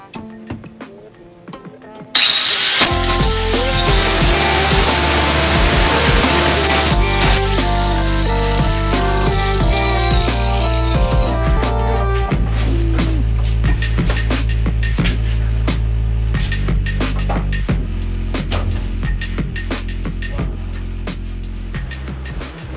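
Saw cutting through the steel frame of a Jeep during a front-to-back split, starting after a brief quieter moment and then running as a loud, steady grinding roar with a harsh metallic whine for the rest of the stretch.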